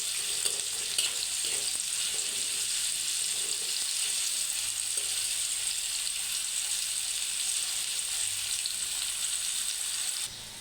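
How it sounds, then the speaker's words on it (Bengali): Sweet jute leaf paste fries in a pan with a steady, close sizzle that holds for about ten seconds, with faint stirring scrapes and no talking. "ভালোভাবে একটু হালকা করে ভেজে নেব।"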